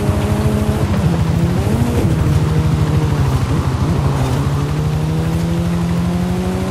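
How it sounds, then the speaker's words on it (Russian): Car engine in a racing video game droning steadily at a low, slowly rising pitch, loud and close with a buzzy rhythmic texture and no talk over it. "Медленно раскручивается моторчик."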